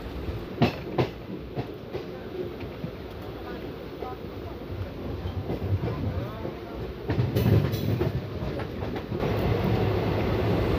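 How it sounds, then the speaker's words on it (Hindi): A Rajya Rani Express passenger train runs on the line toward Lucknow near Roza Junction, heard from inside as a steady rumble with rail clicks and clatter, swelling louder toward the end. "और हमारी ट्रेन अभी लखनऊ वाली लाइन पर चल रही है"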